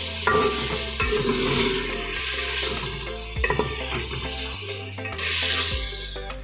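Chicken and garlic fry for chicken jalfrezi, a sizzling hiss broken by repeated scraping strokes of a spatula against the pan and occasional metallic knocks.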